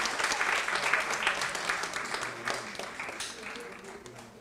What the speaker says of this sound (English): Once again, big round of applause for the team.